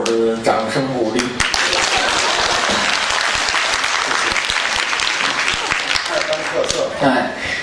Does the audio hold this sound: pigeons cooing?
no